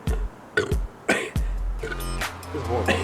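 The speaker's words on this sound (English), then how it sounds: "I have to burp." Long, rumbling burps from someone who has just downed two liters of soda, several loud close belches in a row, with groans and short bursts of talk between them.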